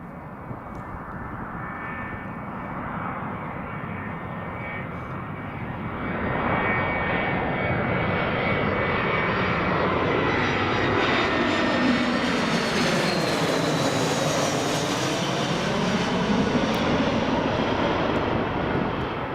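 Airbus A318 from Belfast arriving at Glasgow Airport, a steady jet engine roar that swells louder and sweeps in pitch as the plane passes close by, with no talk.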